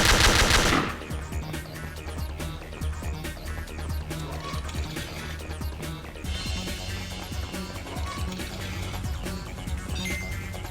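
Rapid AK rifle fire in an FPS Creator shooter game, dense fast bursts of sharp shots running almost continuously, loud and up close, with a heavy blast at the start.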